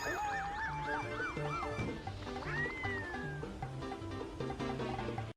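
A cat meows repeatedly in short, warbling cries, fairly quiet, over a busy bed of music, followed by a longer drawn-out meow.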